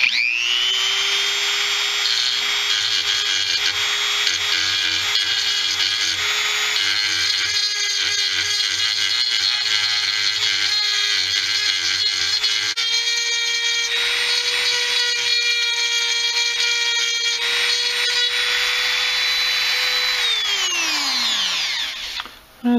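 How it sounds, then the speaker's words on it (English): A Dremel rotary tool grinds a dirt bike engine case, a continuous high-pitched whine at close range that holds steady, shifts pitch slightly partway through and spins down at the end. "But I'm going to kind of rough it out again with my Dremel here."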